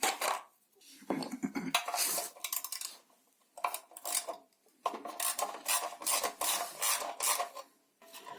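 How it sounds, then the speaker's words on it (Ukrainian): A wrench works the starter bolts loose on a petrol generator, producing close ratcheting and rasping metal scrapes in repeated bursts separated by short quiet gaps. "Відкручую старти. Тут 4, 3, 3 болти."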